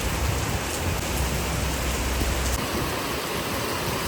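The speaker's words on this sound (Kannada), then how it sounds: "ಅಂದರೆ ಜೋರಾಗೇ ಬರ್ತೈತೆ ಇವಾಗ ಮಳೆ." Heavy rain pours down while someone shelters in a shed, a loud, unbroken hiss with a low rumble in the first part, steady throughout and with no talk.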